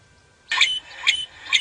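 A croaking cisticola in African grassland gives a few short, buzzy rasping calls, three quick phrases close together, fairly clear against a quiet background.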